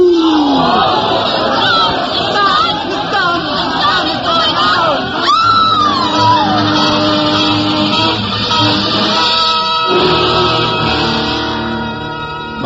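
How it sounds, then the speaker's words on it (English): Crowd screaming in terror as a radio drama effect, many voices yelling and wailing together in a dense, sustained roar, with rising shrieks partway through before easing slightly toward the end. "The crowd went mad with fear."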